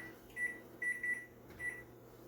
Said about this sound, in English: I'm going to go ahead and start a timer.